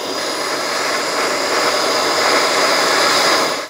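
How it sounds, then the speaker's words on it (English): A torch heats a sway bar link nut on a 2009-2019 Ford Flex, producing a steady, loud, close hissing roar of flame that holds for several seconds before cutting off abruptly. "apply some heat directly to the nut, removing the neoprene locker inside this area"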